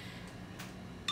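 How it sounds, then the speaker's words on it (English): A phone sounds a brief notification beep for an incoming message, heard faintly near the end against a quiet room hum. "Because I have my phone right here, you can hear it going off"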